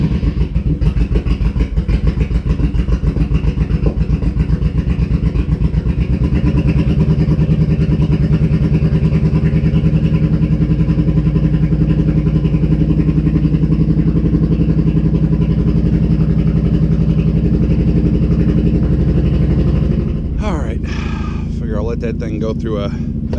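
A Honda engine fires and settles into a steady idle, its low, even rumble running loud and unbroken throughout, with brief clattering sounds near the end and someone speaking over it.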